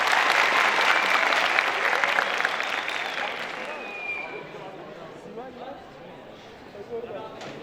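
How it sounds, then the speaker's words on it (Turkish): Audience applause at a school quiz competition final in Kahramanmaraş, loud and dense at first, then thinning and fading over several seconds, with a voice faintly present beneath it. "Hadi hep birlikte Kapıçam'ı alkışlayalım mı?"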